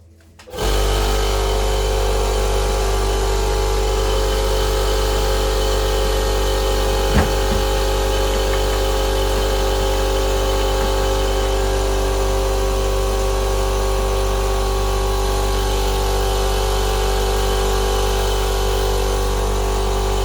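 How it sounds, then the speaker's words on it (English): An air compressor in a workshop, used for spraying Raptor bed liner underseal on an R32 GTR Skyline, kicks on with a sudden onset and then runs as a loud, steady hum and drone that continues unbroken, with no talk over it. "fire up the compressor, I suppose, get that going"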